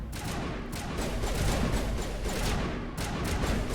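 Gunfire in the game Mass Effect: a dense, continuous barrage of rapid shots keeps the sound loud and unbroken, with a brief dip before the firing resumes, and no voices are heard.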